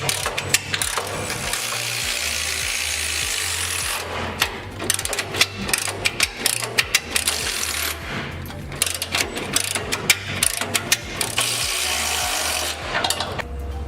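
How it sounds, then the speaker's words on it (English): A hand ratchet clicks and rasps close up while bolts are tightened to fit a Rockarmor side step on a Nissan NP300 Navara, with steady grinding strokes and bursts of rapid pawl clicks. "So I'm just going to tighten up the front first, and then tighten up the back,"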